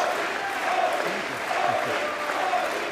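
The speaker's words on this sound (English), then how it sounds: "Modi played to that sentiment to rapturous applause" Sustained applause from a large audience in the US Congress, a steady dense wash of clapping that fills the whole stretch at moderate loudness with no gaps.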